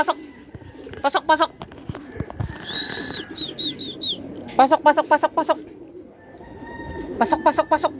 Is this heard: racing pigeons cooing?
yes